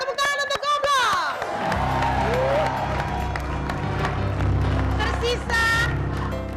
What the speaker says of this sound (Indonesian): Tepuk tangan untuk Goblok.